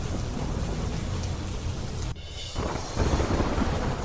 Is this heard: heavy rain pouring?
yes